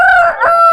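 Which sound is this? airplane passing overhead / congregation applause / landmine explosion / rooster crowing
rooster crowing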